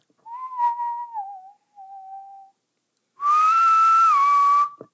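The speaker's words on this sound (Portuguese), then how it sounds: "Tu sabe que dá pra assoviar puxando o ar?" A person whistles, first a soft wavering tune in short phrases, then after a pause one louder, sustained, sliding whistle, close and alone with no talking.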